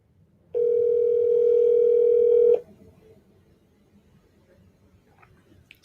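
A telephone dial tone sounds while a call is being placed: one steady, loud, unbroken tone lasting about two seconds, then cutting off to a quiet room with faint background noise.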